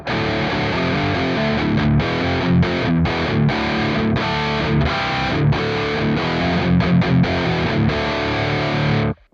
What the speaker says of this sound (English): once we go ahead and enable the insert, which has a plumes distortion or overdrive pedal